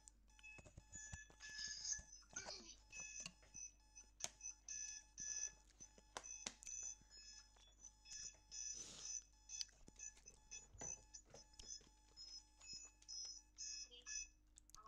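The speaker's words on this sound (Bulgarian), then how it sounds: "Аларма!" An alarm clock beeps indoors in rapid, steady bursts that repeat for the whole stretch, fairly faint and backed by a low electrical hum, with a few clicks and bumps between the beeps.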